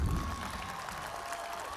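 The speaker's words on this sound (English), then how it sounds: "Please give them a round of applause" Brief burst of audience applause at a high school graduation ceremony, a dense, steady patter of clapping from a large crowd in a reverberant space.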